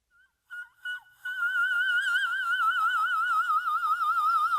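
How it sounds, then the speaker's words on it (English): A voice in whistle register, very high and thin, sustains a wavering note after a few short chirps, steady and piercing with a light vibrato. "In singing, whistle sounds like this. First the male,"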